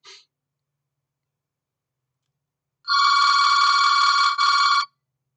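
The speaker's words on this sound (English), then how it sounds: "Let me just let this phone ring." A telephone rings in a lecture room, a sharp electronic trill lasting about two seconds after a long silence, close and loud, with a tiny click at the very start.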